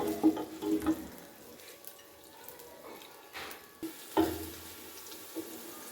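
Sliced onion softening in oil over a medium flame, a quiet, steady sizzle close by with a few light stirring clinks and scrapes, no talking.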